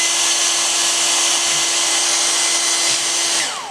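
A hair dryer blows on a wet watercolor wash, a loud, steady whirring hum with a constant whine that winds down at the very end.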